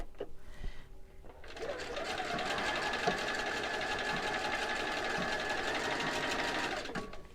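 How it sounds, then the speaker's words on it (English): Sewing machine stitching in a replacement zipper, a close steady mechanical whir running continuously for about six seconds after a short pause with a few faint handling knocks. "I'm just gonna sew it right here."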